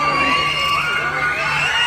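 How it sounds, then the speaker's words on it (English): A crowd of fans screams and cheers continuously at a live event. The mass of high, overlapping shrieks stays loud and dense throughout, with no single voice standing out. "They're screaming. They're absolutely screaming."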